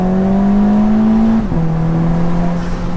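A Volkswagen MK5 GTI with an AWE Tuning catback and a 3-inch USP Motorsports downpipe drones loudly and steadily, its exhaust pitch rising gradually, dipping briefly, then settling into a lower steady note.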